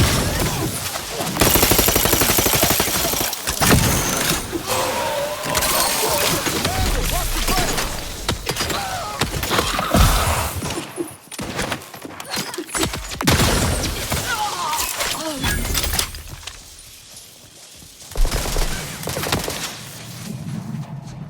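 Gunfire from the video game The Outer Worlds 2 comes as repeated bursts of shots, loud and dense, interrupted by quieter gaps, mixed with game sounds and occasional voices.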